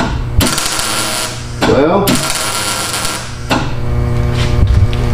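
A custom turbo manifold for an International (Ford) 6.9 IDI diesel is welded, giving a loud, dense crackling sizzle in bursts with brief breaks, while someone talks over it.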